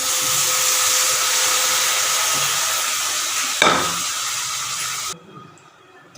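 Dal frying in a pan gives a steady, loud hiss and sizzle with a single stirring scrape, then the sound drops away to near quiet.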